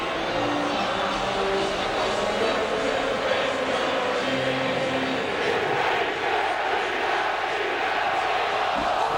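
Philadelphia Eagles fans in a stadium singing during a Cowboys at Eagles football game, a steady, dense crowd roar with faint chant-like tones that stays loud throughout.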